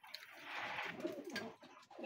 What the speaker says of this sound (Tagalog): Gandang kalapati to.